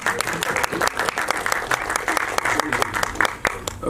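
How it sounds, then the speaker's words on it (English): Applause from an audience at a Delhi promotion event for the film Ek Villain Returns, dense clapping running steadily throughout, loud and close with crowd noise and some voices mixed in. "Can we give a huge round of applause"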